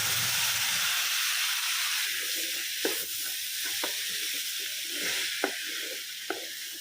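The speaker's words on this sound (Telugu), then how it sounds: "సో ఒక 2 మినిట్స్ వరకు మనం ఈ తడకాలో ఫ్రై చేసేసుకుందాము" Boiled white peas fry in a tadka over a medium flame, giving a steady, fairly quiet sizzle and hiss with a few sharp taps of a spoon stirring in the pan.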